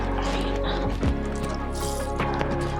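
Soaked gelatin sheets are squeezed and wrung out by hand while making a black sesame and white chocolate mousse cake, giving close squishing, dripping and trickling water sounds over a low background hum.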